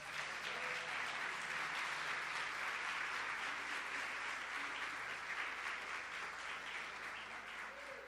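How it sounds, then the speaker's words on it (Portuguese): Congregation applauding during a Portuguese-language church sermon, a dense, steady wash of clapping that holds at the same level for the whole stretch, with no speech over it. "Aplauda Jesus."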